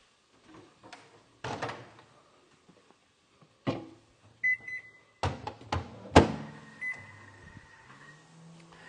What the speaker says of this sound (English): Chuck that in the microwave for about 14-15 minutes